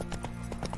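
Horse hooves trot through a town in The Witcher 3: Wild Hunt, a quick clip-clop of several light, evenly spaced steps.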